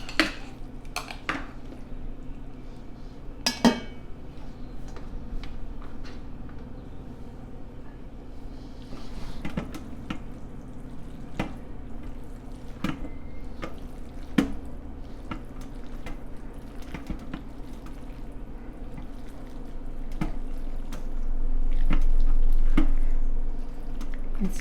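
Mexican spaghetti with peppers and onions tossed in a small round slow cooker, with repeated sharp utensil clicks and scrapes against the crock over soft squishy stirring and a low steady hum.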